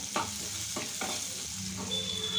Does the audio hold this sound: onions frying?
yes